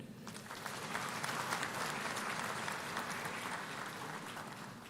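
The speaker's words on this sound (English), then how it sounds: "Shall we please applaud?" Applause from a graduation audience at a university memorial lecture, a broad, even, fairly distant clatter of many hands sustained for several seconds without talk.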